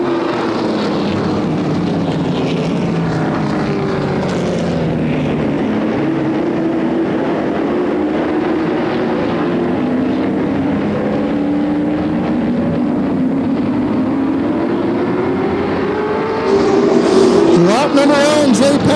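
Vintage modified race cars roar off at the start at Flamboro Speedway, a dense, loud engine drone rising in pitch as the pack accelerates, with a commentator talking over it.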